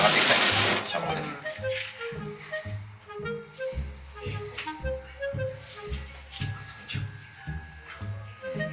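Water from a shower drains into a bathroom floor drain with its trap removed, gurgling and bubbling back up in a rhythmic series of glugs, running steadily and fairly loud close by.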